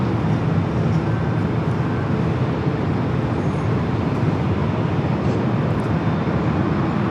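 A Boeing 737-900ER airliner rolling down runway 24 left at Los Angeles International Airport, a loud, continuous broadband jet roar that holds steady throughout with no voices over it.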